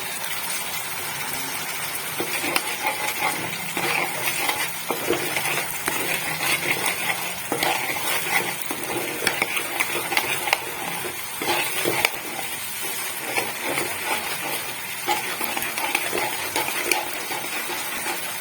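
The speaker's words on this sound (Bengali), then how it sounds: "মশলাটা আমি খানিকক্ষণ কষিয়ে নেব।" Spices frying in a pan for chingri malaikari make a steady, close hiss and bubbling sizzle that runs without a break, broken now and then by soft stirring scrapes.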